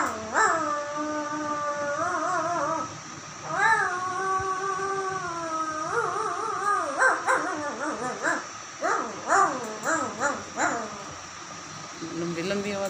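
A voice imitates a dog with a string of yelping, barking sounds, first drawn-out then in quick bursts, close and fairly loud.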